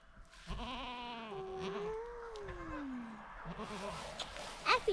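A goat bleats in a long, wavering call that rises and falls, close and clear, followed by fainter scuffling and a few sharp higher sounds near the end, with no talk.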